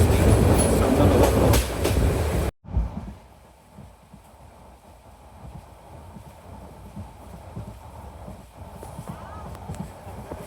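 A local train runs on rails on the Chittagong to Cox's Bazar line, with loud rumbling and rhythmic clattering that drops sharply after a cut, then continues as quieter steady wheel noise and clicks.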